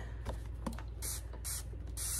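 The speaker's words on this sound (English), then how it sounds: "I'm gonna spray it" Cleaner is sprayed onto a suede purse in three short, hissing bursts from a spray bottle, close and fairly quiet, with faint handling noises before them.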